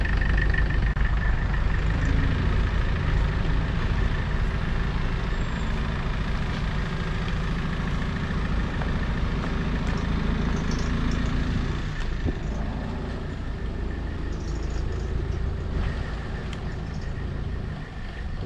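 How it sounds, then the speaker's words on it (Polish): A heavy vehicle with a Mercedes engine idles steadily and loudly close by, a continuous low rumble with no speech over it, on an outing heading into the mountains. "Józef ma silnik w łazie z Mercedesa."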